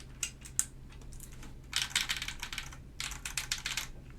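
Keycaps are pressed onto a Baron Boards BP-One mechanical keyboard, producing close, crisp clicks and clacks in irregular clusters, some bursts louder and denser, over a low steady hum.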